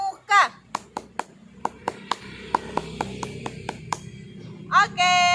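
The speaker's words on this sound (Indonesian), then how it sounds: "Tepuk pramuka." A Scout clap: a quick run of sharp, rhythmic hand claps in a steady pattern, with a voice briefly heard at the start and end.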